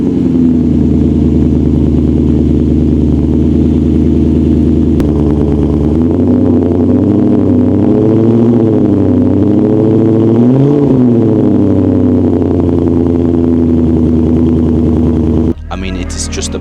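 A car engine revs in a garage, its loud, steady idle swelling into a sustained, wavering rev in the middle before settling, with a brief voice near the end.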